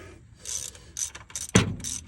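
A ratchet snugs bolts near a car's brake master cylinder, a few short bursts of rapid clicking in a quiet space, ending with one sharper metallic knock.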